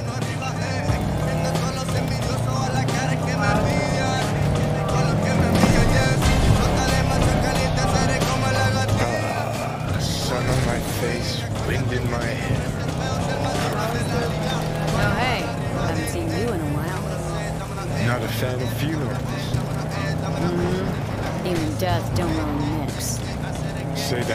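Car driven in the video game Cyberpunk 2077, a steady engine drone with tire noise and passing whooshes, under frequent character dialogue and game sounds.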